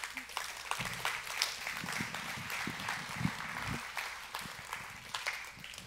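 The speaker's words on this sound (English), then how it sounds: "You guys give Tiffany a round of applause" A small meeting audience gives scattered, uneven applause with individual claps standing out, and some voices murmur underneath.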